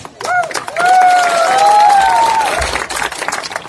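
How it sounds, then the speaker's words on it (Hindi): An audience claps at a Chakma political rally speech in Tripura, a steady burst of applause lasting a few seconds, with tonal voices and whistles riding over the clapping. "आप ताली मार रहे हैं, खुश होने का क्या बात।"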